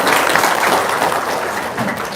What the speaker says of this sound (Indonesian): Set, tepuk tangan dong.